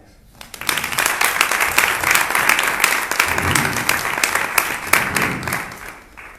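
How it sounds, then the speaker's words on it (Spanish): Sustained audience applause from a crowd at a talk on democratic memory in Segovia, dense steady clapping building quickly and holding loud throughout before easing slightly at the end. "un aplauso para ellos"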